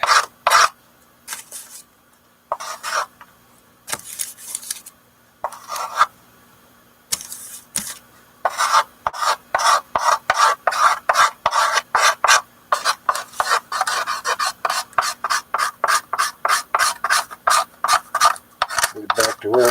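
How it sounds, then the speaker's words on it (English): Scraper rasping excess glue off a violin top during restoration, short bursts at first then a fast run of rhythmic close scraping strokes, with no talk over it. "Scrape off all that excess glue"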